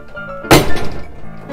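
A Di-Acro rod parter shears through a half-inch solid aluminum bar with one sharp, loud snapping crack and a brief ringing tail, close by and alone after a quiet lead-in.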